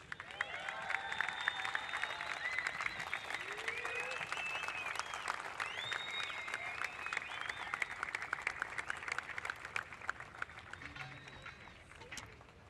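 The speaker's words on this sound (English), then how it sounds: "Let's hear a huge round of applause for Caity Simmers." Scattered applause at a surf contest finals day at the EDP Vissla Pro Ericeira honors surfer Caity Simmers. It sounds faint and outdoorsy, with sharp claps, birdlike chirps and crowd murmur running throughout.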